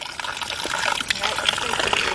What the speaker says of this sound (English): There is water at least.